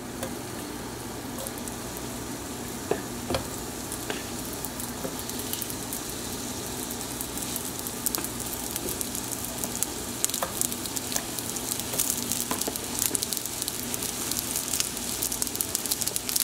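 Thin-cut steak sizzles steadily in a hot pan, a continuous close crackle with scattered sharp pops building slightly louder over time.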